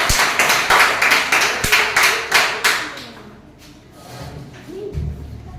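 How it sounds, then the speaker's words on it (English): Loud, close clapping from a small group at a speech competition, a few seconds of quick claps that thin out and fade, followed by quiet room noise and faint movement. "please give him a round of applause"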